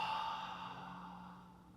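Relaxed open-mouth exhale, like fogging a mirror, during a breathing tutorial for athletic movement and recovery: one soft, steady breathy rush that starts strong and slowly fades over about two seconds, close and alone.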